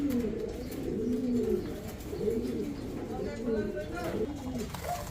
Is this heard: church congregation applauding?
no